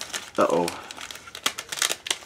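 A plastic bag crinkles and rustles in short bursts while a board game box is unpacked, close and crisp, with a person talking over the handling noise.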